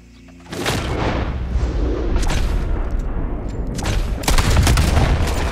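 Shotgun blasts in Red Dead Redemption 2, a loud booming shot followed by echoing gunfire and a second heavy blast near the end, sharp and close against a rumbling background.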